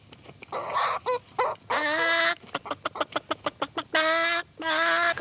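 Chickens in a henhouse on a small country property, with a string of loud close clucks and a few drawn-out squawking calls, some repeated in quick bursts, heard alone with no talk.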